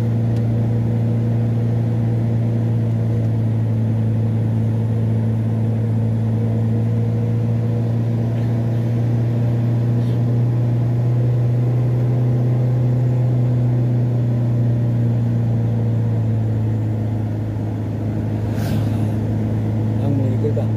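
A vehicle engine labors up a steep mountain road in Nagan Raya, Aceh, a steady low droning rumble that holds near and loud throughout without a break.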